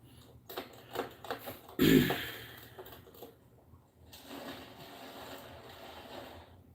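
Rocks tumbling inside a tank strapped to a jacked-up van wheel: irregular clattering rattles and knocks with one louder thump, then a softer steady churning rattle.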